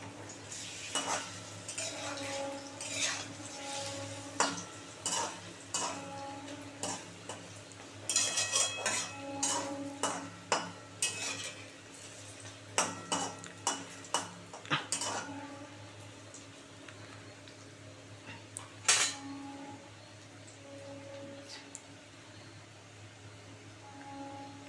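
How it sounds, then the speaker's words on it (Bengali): Paneer pieces frying in a pan for paneer manchurian, with a steady sizzle broken by frequent sharp scrapes and clinks as a spatula turns them against the metal, close and fairly quiet, no talking. "এগুলো ভালো করে লাল করে ভাজা হয়ে গেল"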